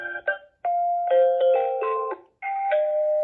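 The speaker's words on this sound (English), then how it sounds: "I think I'll just go with the ding dong." An electronic ding-dong doorbell chime from an indoor gate intercom wall monitor plays clearly several times, bright sustained tones with brief pauses between rings, close and alone.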